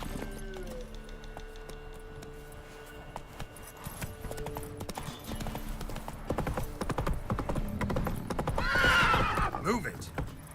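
Hooves clip-clop in a steady trot as Geralt's horse Roach moves in The Witcher video game, building to a loud whinny near the end, with a voice speaking over the start.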